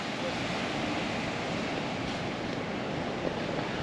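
Steady broadband wash of surf rolling on a rock and sand beach in Dinadiawan, Aurora, continuous and fairly loud, with wind noise buffeting the microphone and no clear talking.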